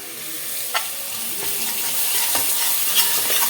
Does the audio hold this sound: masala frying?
yes